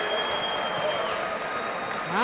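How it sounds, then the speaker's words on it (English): Arena audience applauding a boxer after a bout, a dense sustained wash of clapping with cheering voices and some tonal crowd noise riding on top, swelling slightly at the end. "can we get a nice round of applause also for Bayan Jargal?"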